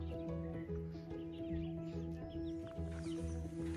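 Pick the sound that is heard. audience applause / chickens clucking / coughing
chickens clucking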